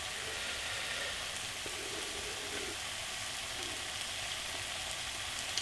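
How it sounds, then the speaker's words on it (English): Bombay potatoes fry in a pan with a steady, close sizzle and crackle that carries on evenly throughout, with no talking. "I need to let these fry up a little bit now for 2 more minutes"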